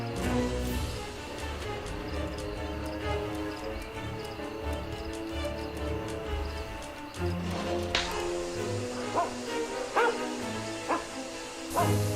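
Dog barking in The Testament of Sherlock Holmes video game, a string of short game-audio barks over a steady background score, with a louder burst toward the end.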